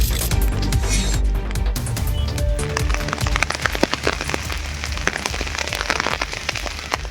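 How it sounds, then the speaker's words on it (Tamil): Heavy rain driven by strong wind across the Nilgiris district around Ooty makes a dense, continuous patter of drops hitting surfaces. Sharper individual splats and a steady roar underneath run without a break. "மாவட்டம் முழுவதும் பலத்த காற்றுடன் பரவலாக மழை பெய்தது"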